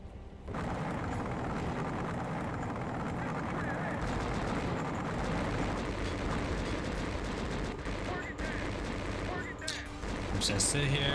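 Enemy tank fire in the Conflict: Desert Storm 2 video game, a dense, sustained barrage of booming gunshots and rumbling blasts that runs loud and continuous throughout, with a voice talking over it.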